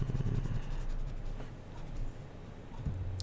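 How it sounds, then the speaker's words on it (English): A board eraser rubs across a board during a geometry lesson on the Pythagorean theorem, a soft continuous scuffing with a few quick strokes, fairly quiet and with no talking. "Let me just erase this"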